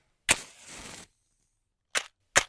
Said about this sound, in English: If you guessed striking a match, you got it.